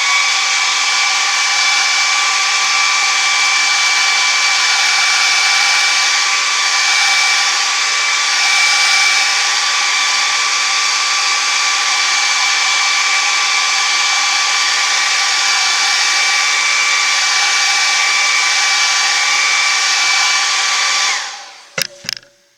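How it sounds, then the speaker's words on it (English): Steady, loud hair dryer blowing continuously for about 21 seconds to dry a freshly painted wood carving of a sports bear, with a faint whine, then clicking off and a couple of handling knocks at the end. "let's hit the hairdryer and dry off that jersey"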